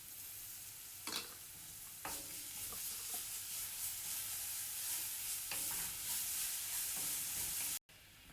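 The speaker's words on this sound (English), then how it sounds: "We're gonna add a teaspoon of grated or diced, finely diced garlic to our onions so that they can cook down" Onions with finely diced garlic sizzle steadily in a pan, a continuous bright hiss broken by a few scraping stirs of a utensil.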